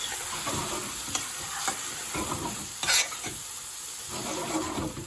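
Garlic prawn bhuna sizzling in a pan while being stirred, a constant frying hiss broken by scraping spoon strokes, close and fairly loud with no talking.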